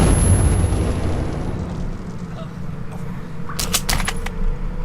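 Grenade blast in the video game Metro 2033, with a loud booming rumble at the start that fades into noisy debris, followed by sharp metallic clatters near the end.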